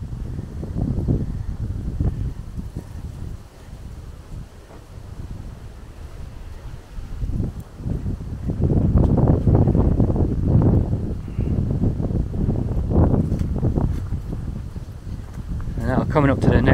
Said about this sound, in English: the wind is just picking up as I go up the hill here